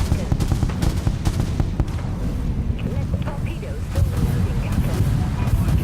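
Heavy naval cannon fire from a warship in the game Dreadnought, booming low and dense with repeated blasts over a steady rumble, while someone talks over it.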